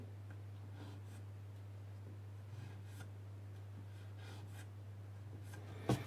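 A pencil scratches short marking strokes on wood in a quiet workshop. The faint scribbles come in bursts over a steady low electrical hum, ending with a small knock.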